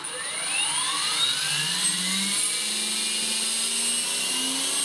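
A Trex 450 Pro DFC RC helicopter spools up on throttle, its high electric motor and rotor whine rising steadily in pitch, loud and close, with no talking.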